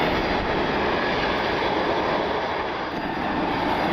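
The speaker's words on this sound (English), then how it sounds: "SkyWest CRJ." A SkyWest CRJ 200 regional jet at Cleveland Hopkins airport in the rain, a loud steady broadband engine roar that holds throughout with only a slight dip near the end, no talking.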